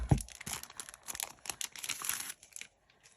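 A sheet of stickers handled up close, with a dense run of crinkling, rustling and small tearing noises for about two and a half seconds before it goes quiet.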